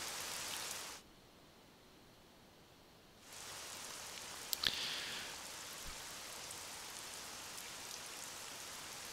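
Rain falls in the video game Treasure Adventure World as a steady, even hiss. It cuts out for about two seconds, then returns, with one brief tick partway through.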